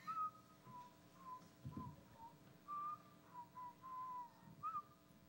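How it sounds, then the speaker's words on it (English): A person whistles a wavering, melodic tune in short phrases with pauses, fairly faint, over a quiet background with a few soft bumps. "you need to keep whistling"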